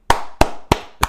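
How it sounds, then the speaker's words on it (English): Four sharp, evenly spaced claps ring out close and loud in quick succession, each with a short decaying tail, like a brief applause sound effect. "Round of applause to Tina K for subscribing to the channel"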